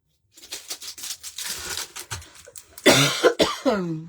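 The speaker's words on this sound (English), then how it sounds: "so I'm not, like, coughing in your ears all the time" A person coughs several times in a ragged sequence, close to the microphone, the last few coughs harsh and loud.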